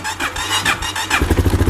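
A snowmobile engine with about 12,800 miles catches after cranking, sputtering into a loud, close, rapidly pulsing idle with its choke on.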